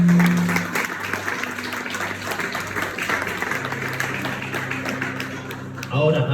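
An audience claps and applauds in a steady, dense patter, with a voice heard briefly at the start and end.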